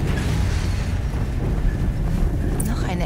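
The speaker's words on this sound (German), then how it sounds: "Noch eine Explosion." An explosion in the video game Horizon Zero Dawn, a dense, loud roaring rumble heavy in the low end that holds steadily for about three seconds, with a voice faintly present underneath.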